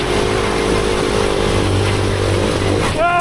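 A turbocharged five-speed Corvette go kart roars at steady high volume, its engine note holding a continuous drone before a brief rise near the end that suggests a gear change.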